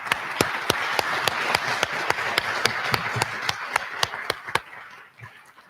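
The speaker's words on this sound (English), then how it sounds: "Please join us in thanking them with a great round of applause," Crowd applause at a high school prom assembly: a broad wash of clapping with one loud, close pair of hands beating a fast, steady rhythm before fading out near the end.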